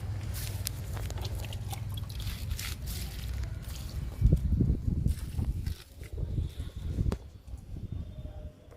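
Liquid fertilizer is poured onto potted jasmine and fruit plants, giving a soft wet splashing and trickling with a few squishy pours and drips close by, fairly quiet, with no talk.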